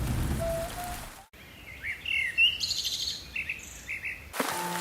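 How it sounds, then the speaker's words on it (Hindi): Steady rain falls on a poor family's house in the monsoon, a soft outdoor patter with birds chirping faintly over it, held for a few seconds between brief louder passages at the start and end. "छत टपकने लगी है और तो और बारिश ज्यादा होने के कारण दीवारें भी गीली रहने लगी है।"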